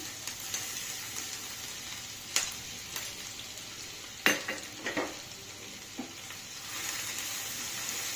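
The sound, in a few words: chopped garlic and onion frying in hot refined oil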